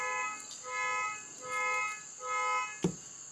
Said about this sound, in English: Of course, there goes the car alarm.